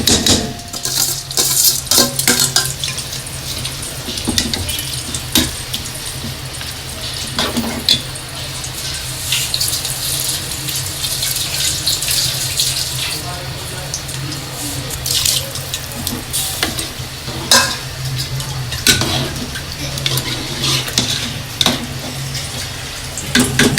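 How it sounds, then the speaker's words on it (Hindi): Rice goes into simmering meat stock for yakhni pulao, with a steady bubbling, sizzling cook interrupted by repeated clinks and scrapes of stirring, close and fairly loud throughout. "लेकिन मैं इसमें डाल रही हूँ चावल"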